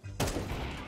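A single loud gunshot in Counter-Strike 2, a sharp close blast that decays into a short ringing tail.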